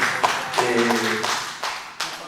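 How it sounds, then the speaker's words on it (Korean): A church congregation gives a short round of clapping during a revival worship service, light scattered claps over a couple of seconds mixed with a voice speaking. "박수 한번 하겠습니다."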